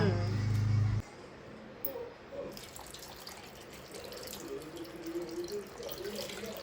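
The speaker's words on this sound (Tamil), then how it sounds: "தண்ணி ஊற்றவா" Water poured into a pot of fish curry with tamarind, tomato and green chili, a soft trickling and splashing that runs on after a brief louder burst, with a person talking nearby.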